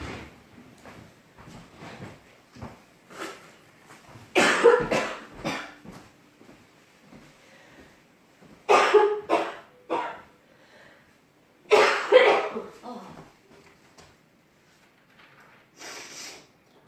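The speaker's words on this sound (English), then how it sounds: "I've got to kind of cough, I'm sorry." Several short, harsh coughs come in bursts separated by quiet pauses, close and fairly loud, with a faint sniff near the end.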